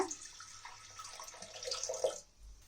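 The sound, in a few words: pouring water into a pressure cooker with toor dal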